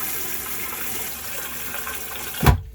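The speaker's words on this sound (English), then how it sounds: "And it's flushing." An RV toilet flushes after its black tank has been replaced: steady rushing water runs for about two and a half seconds, then ends in a brief louder gush before silence.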